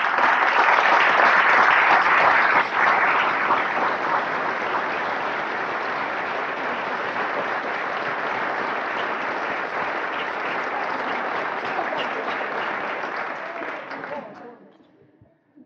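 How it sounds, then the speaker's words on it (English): An audience at a public library tribute event claps steadily for a long stretch, loudest at first, then holding an even roar before fading out near the end. "let them applaud you"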